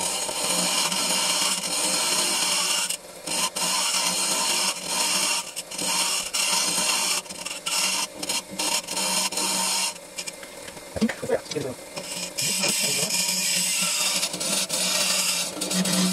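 A lathe tool trims and finishes the inside of a hollowed wooden vase. The scraping and whirring is loud and continuous, with brief bumps and catches partway through.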